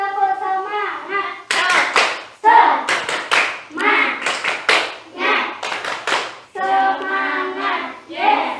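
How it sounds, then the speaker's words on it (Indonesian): Elementary schoolchildren in a classroom perform a rhythmic clapping chant, crisp bursts of hand claps alternating with a teacher's and class's voices calling out in time, loud and close. "Kita tepuk semangat dulu supaya semangat, oke?"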